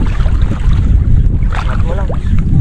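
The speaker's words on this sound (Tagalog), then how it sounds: "lumalakas na hangin" Strong wind buffets the microphone at sea from a fishing boat, a steady low roar with water and hull noise throughout, and a few faint tonal squeaks near the end.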